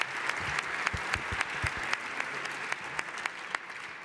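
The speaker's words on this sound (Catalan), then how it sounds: "Us demano un fort aplaudiment per l'Artur" Audience applause for an author at a Sant Jordi celebration at a hospital, steady clapping from a modest crowd with distinct individual claps standing out over the wash.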